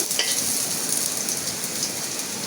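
Onions sizzling steadily in a hot pan as they fry until reddish, a dense continuous crackle at close range with no voices.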